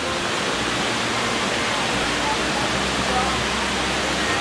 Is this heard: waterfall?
yes